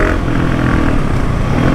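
A 2019 KTM 690 SMCR single-cylinder motorcycle fitted with a Wings exhaust revs close by. It gives a loud, rough, sustained roar with a busy, clattering edge.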